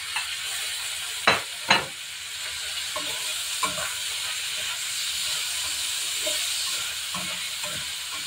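Tomatoes fry in a hot pan while being stirred for Ilocano pinakbet, a steady sizzling hiss broken by a few sharp scraping and clanking stirs of the utensil, close up.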